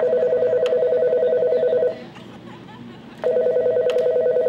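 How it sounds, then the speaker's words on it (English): Continuous steady telephone tone broken by a short gap, then resuming, as a phone is dialed, with a brief faint interruption in between; no speech heard. "He's making a phone call."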